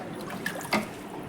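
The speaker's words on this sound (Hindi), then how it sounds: "और अब मैं कूलर में पानी डाल रही हूँ" Water poured into an indoor air cooler during summer, a steady close splashing trickle with a brief louder gush partway through.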